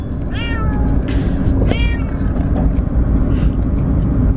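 A cat meowing inside a moving car, several rising, whiny cries standing out over a loud, steady road and engine rumble.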